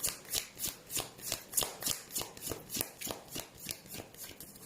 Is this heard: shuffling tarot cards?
yes